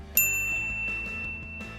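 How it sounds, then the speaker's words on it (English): A crisp notification-bell ding strikes once near the start and rings on with a bright tone over a steady low musical background. "ring the bell to be notified about our latest videos"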